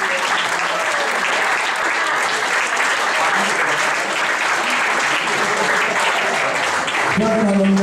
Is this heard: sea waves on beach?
no